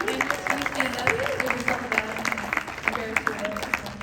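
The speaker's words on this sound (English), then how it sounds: "Can we get an applause for Australia?" Applause from a cosplay panel audience at WonderCon, steady clapping with sharp individual claps, mixed with voices and chatter throughout.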